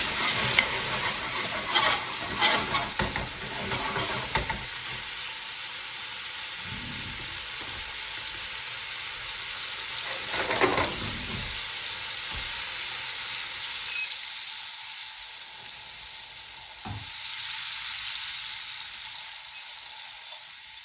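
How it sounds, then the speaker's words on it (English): A spiced tomato puree hits a hot pan and is stirred, giving a steady close sizzle with bursts of scraping and stirring spread through the stretch, with no talking. "In goes our tomato puree. So it's a spiced tomato puree."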